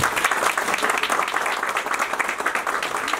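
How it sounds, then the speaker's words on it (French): Applause from a seated audience at a formal address to a Tunisian delegation, a dense, steady clapping that fills the whole stretch at close range, with no one speaking over it. "Et moi, je vous applaudis tous très fort."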